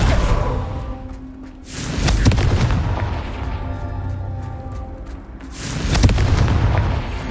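A Confringo fire spell fired in Hogwarts Legacy erupts in a loud booming blast with a whooshing roar, followed by a second heavy explosion several seconds later.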